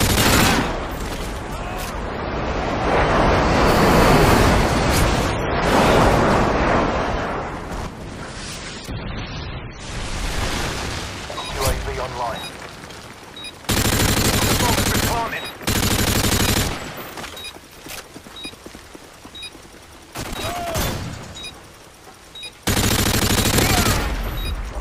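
Airstrike explosions in the shooter Modern Warfare 2 are loud, heavy blasts with rumbling booms and gunfire that fill the scene, followed by repeated sharp bursts separated by short gaps.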